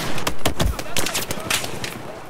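Rapid bursts of gunfire and sharp shots in the video game Battlefield 4, loud and irregular over a couple of seconds, with a voice speaking over them.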